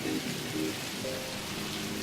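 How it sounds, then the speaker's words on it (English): Heavy rain pours down in a constant dense hiss, steady and full throughout with no pauses. "The rain falls heavy tonight, Borelli said"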